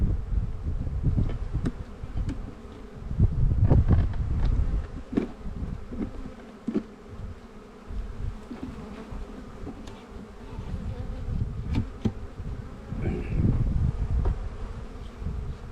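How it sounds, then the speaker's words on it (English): Dense, steady buzzing of many honey bees swarming over an open hive colony, close and loud for the whole stretch, with a low hum and a few sharper wing sweeps rising above it. "You can see there's bees from one end to the other."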